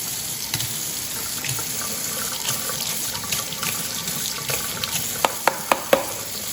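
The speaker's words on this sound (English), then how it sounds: "And now you do a little bit of a drizzle of water." Water runs steadily from a tap over hands with a constant hiss and splash, a few sharp clicks near the end.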